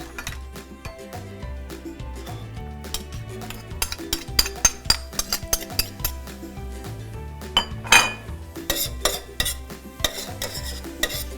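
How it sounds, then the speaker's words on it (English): Onions sauteing in oil for beef stroganoff are stirred in a pan, with repeated metal clinks and scrapes of a utensil over a faint sizzle, the strokes getting louder and busier later on. "At this time, we will saute the onions."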